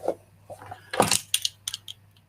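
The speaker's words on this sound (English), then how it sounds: "car keys" Car keys jangle and clink close up in a few quick metallic bursts, with a soft rustle between them, no talking.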